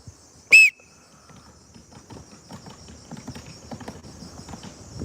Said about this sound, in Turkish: Düdükle birlikte başlıyoruz